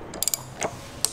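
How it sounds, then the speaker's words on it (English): Ratchet working the top stem bolt nut off a Harley-Davidson steering head during neck bearing service, a few quick close clicks in short bursts over a quiet workshop background. "we're gonna take off this top stem bolt"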